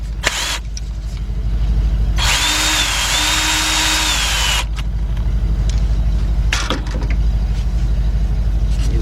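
A power drill whirs loudly in two bursts, a short one then a longer one of about two and a half seconds, backing out 10mm bolts from the idle air control valve on a Lincoln LS engine, over a steady engine-bay hum.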